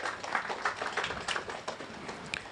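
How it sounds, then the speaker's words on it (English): A seated audience at an opening-remarks event claps for the Minister for Finance, a soft, even spatter of many hands heard from some distance, with no voices over it. "Let's clap for the Minister for Finance."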